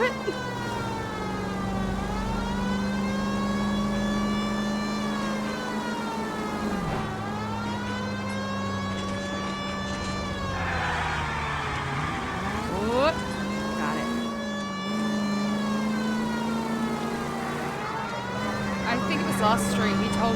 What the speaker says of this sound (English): he told you that the siren would take the element of surprise out of your hit and runs